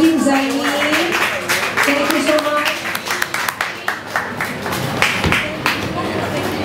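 Applause and cheering from a crowd at a Christmas kids event, dense and steady throughout, with a voice speaking over the clapping early on.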